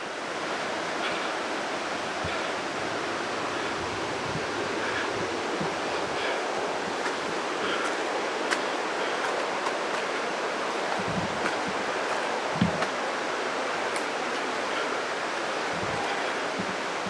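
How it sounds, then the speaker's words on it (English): A big muddy waterfall roars as a steady, dense rush of water, with broad wind buffeting on the microphone and a few low thumps; no one speaks. "That's a big muddy waterfalls right there"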